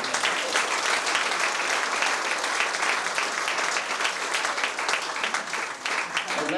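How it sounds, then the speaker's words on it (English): Warm applause from an audience at a local GAA club gathering, a dense steady clapping that fills the whole stretch without pause, close and fairly loud with no voices standing out. "so it deserves a round of applause."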